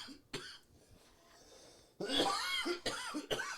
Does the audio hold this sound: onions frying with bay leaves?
no